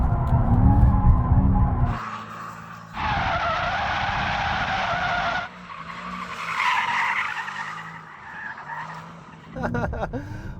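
Mercedes-AMG E63 S in drift mode on a track, tyres squealing and skidding in long loud bursts over a roaring engine, with brief lulls as the car slides and recovers.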